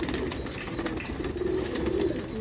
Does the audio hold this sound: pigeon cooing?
yes